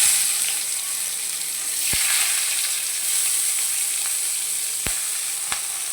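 Onions frying in hot oil with cumin seeds, a steady close sizzle with a few brief clicks of a utensil, no talk.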